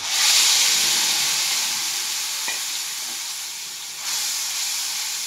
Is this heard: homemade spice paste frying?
yes